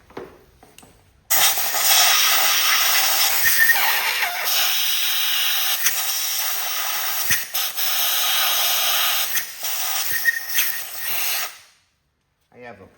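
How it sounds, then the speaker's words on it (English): Compressed air blasts out the holes of a Kohler KT17 flywheel on a Cub Cadet 782, a loud continuous hiss that starts abruptly, wavers and briefly dips in several places, then cuts off near the end. "We're going to spray that down first. Then we're going to blow the holes out."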